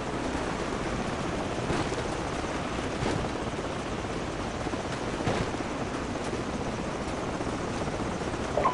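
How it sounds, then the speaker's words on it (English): Enemy helicopters in the Call of Duty 4 Modern Warfare video game, a constant loud rotor roar and wash filling the scene with steady broadband noise throughout. "Enemy helicopters."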